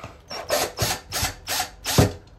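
Power drill boring holes into a fiberglass bathtub, five or six loud whirring bursts in a steady rhythm, close up and clear of talk.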